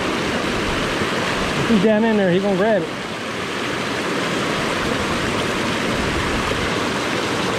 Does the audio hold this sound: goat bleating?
no